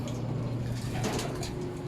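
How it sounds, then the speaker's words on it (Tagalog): A pigeon with a blue leg ring coos softly outside a pigeon loft, a low repeated throaty call over steady background hum. "may ibon sa labas. Kulay blue ang ring."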